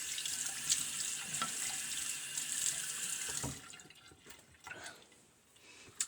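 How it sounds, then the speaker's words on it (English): A tap runs steadily into a sink while water is splashed onto the face before a shave. The close, hissing flow stops partway through, leaving scattered drips and light splashes. "Some water on the face."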